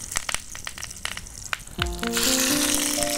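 Ingredients for hilsa fish paturi drop into hot oil in a pan over a wood fire, and a sudden loud sizzle bursts out and holds steady after earlier scattered clicks and rustling.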